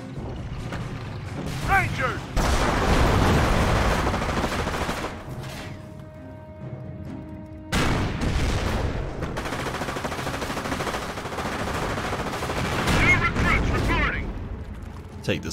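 Dense gunfire and blasts from the Company of Heroes Normandy campaign battle at St. Lo, with bursts of rifle and machine-gun fire and explosions running almost continuously, briefly thinning mid-way, under soldiers' shouted voice lines.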